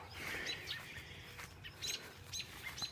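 Birds chirp and tweet near a graveyard, a scatter of short, fairly faint calls repeating over steady outdoor background noise, with no voices.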